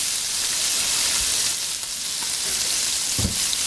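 Scallops sear in a hot pan, giving a loud, continuous close sizzle with a couple of dull knocks from the spatula, and no voices.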